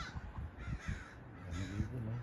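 A crow-like bird caws from a backyard tree in a series of rough, repeated calls over a low, busy ambient background.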